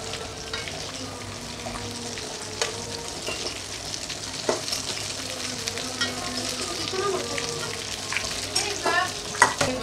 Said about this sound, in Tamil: மீதி இருக்கிற சிக்கனையும் பொரிச்சிடலாம்.